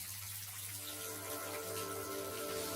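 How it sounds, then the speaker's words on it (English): Cool, clear tap water gushes steadily into a sink, a continuous even wash of spray heard close and alone throughout. "Cool, clear water still gushes from the tap"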